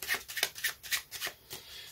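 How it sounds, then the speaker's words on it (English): Playing cards shuffled by hand during a close-up card trick, giving a run of quick crisp riffling bursts in steady rhythm, close and moderately loud, with no talking. "I want the spectator to shuffle the cards how much he wants, just like this"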